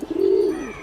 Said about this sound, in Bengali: পোষা কবুতর